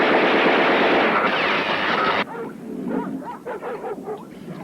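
Rapid, continuous machine-gun fire in a film blasts loud and dense for about two seconds, then cuts off abruptly, leaving a quieter stretch of scattered dog barks and shouts.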